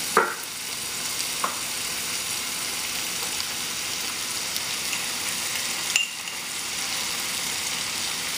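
Soy sauce goes into a pan of frying Shanghai-style cassava (mogo), giving a soft, steady sizzle, with a couple of faint utensil clinks at the start and again partway through.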